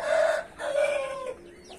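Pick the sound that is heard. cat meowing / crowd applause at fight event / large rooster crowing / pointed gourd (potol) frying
large rooster crowing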